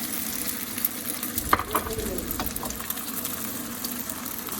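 Egg mixture hisses and sizzles on a hot tawa griddle, a soft steady crackle with a brief louder burst as it spreads across the pan.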